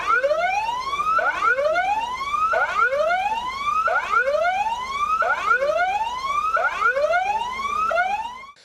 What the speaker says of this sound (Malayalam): 4:28 മുതൽ സുരക്ഷിതമെന്ന സൈറൺ 30 സെക്കൻഡ് മുഴക്കിയാണ് മോക്ക് ഡ്രിൽ അവസാനിപ്പിച്ചത്